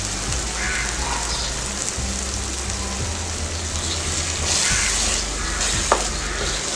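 Mushroom masala with added eggs fries in a pan over low heat, giving a steady, even sizzle throughout with a few faint clinks of stirring and no speech.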